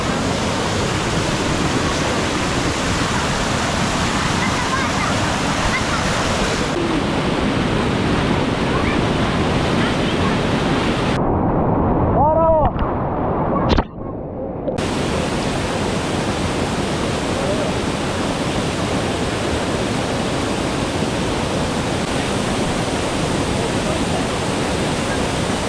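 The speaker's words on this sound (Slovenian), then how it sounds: "To je pa edini vroč slap v srednji Evropi." Hot waterfall in Tuscany, a steady broadband rush of falling water, loud and continuous throughout, with a brief near-silent dropout in the middle before the roar resumes.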